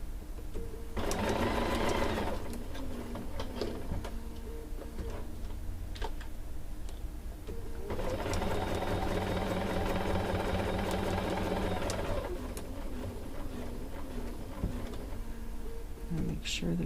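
A sewing machine stitches quilt seams in two clear runs of fast, even mechanical whirring and ticking at close range, separated by quieter pauses with faint handling sounds.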